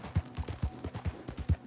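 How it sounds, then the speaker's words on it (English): A horse gallops in the video game Red Dead Redemption 2, its low hoofbeats thudding in a quick, steady rhythm at close range. "This horse is pretty damn fast, man."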